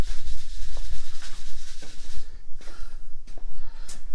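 Sandpaper rubbing over metal flake paint on a panel in close, rhythmic back-and-forth strokes, a steady scratchy rasp with no talking.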